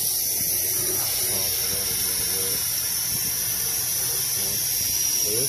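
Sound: spraying cleaner on car engine

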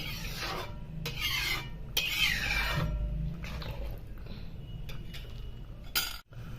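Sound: ladle stirring green peas curry in a pot

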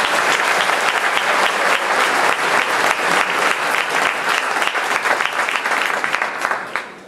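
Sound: concert audience applauding

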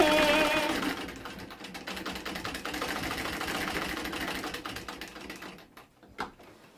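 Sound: sewing machine stitching a fabric pocket onto an apron

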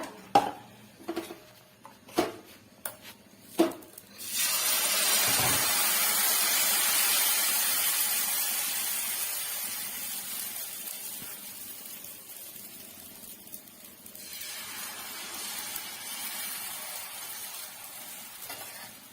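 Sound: oil spread on a hot dosa tawa

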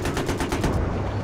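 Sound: gunfire in video game Battlefield 3

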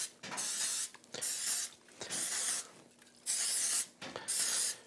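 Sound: cooking spray sprayed into muffin tin

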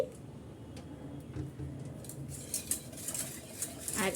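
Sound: stirring milk in a pot with a spoon

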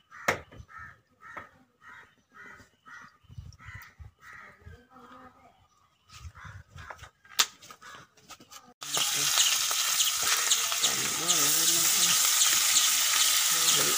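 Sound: fish frying in hot oil in pan

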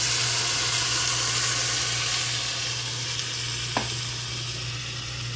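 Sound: stirring chicken rolls sizzling in a pan

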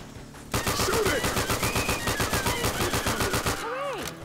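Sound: gunfire in Left 4 Dead 2 video game

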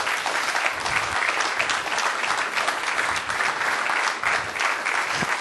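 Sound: audience round of applause for startups

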